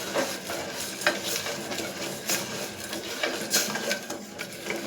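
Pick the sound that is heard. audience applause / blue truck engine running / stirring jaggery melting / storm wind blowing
stirring jaggery melting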